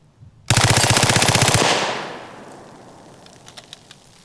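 A Reising M55 submachine gun fires a fast, loud burst of about a dozen rounds at soda cans outdoors, the rapid stutter lasting roughly a second before a long echoing decay with a few faint clinks after.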